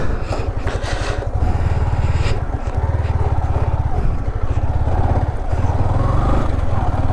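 A motorcycle engine runs loud and close with a steady, throbbing low rumble that holds for the whole stretch as the bike sets off.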